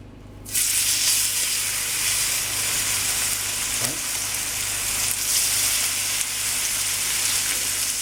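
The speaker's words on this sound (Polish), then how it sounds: "piersi smażymy około 10 minut" Chicken breasts hitting a very hot pan of heated olive oil, bursting into a loud, dense, continuous sizzle that holds steady for several seconds, close up, with a faint brief clink partway through and no talking.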